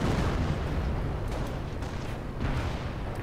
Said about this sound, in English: Hummel round comes down on those rifles and MG